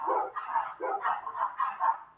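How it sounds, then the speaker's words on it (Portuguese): Several dogs bark repeatedly close to a house, a steady run of overlapping barks and yips with brief whimpers, loud and near, with no talk over them. "E agora os cachorros começaram a ficar bravos aqui perto de casa."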